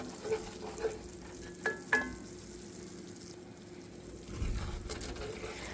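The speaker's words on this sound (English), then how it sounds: "I'm going to cook this till my flour is good and done" Flour browning in a pan for gravy gives a soft, low sizzle, broken by a few spatula taps and scrapes up close, all fairly quiet.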